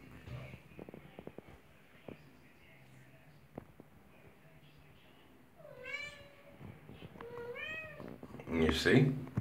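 A house cat meows at a bathroom door, several rising calls near the end, moderately close, with faint shuffling and quiet talk earlier.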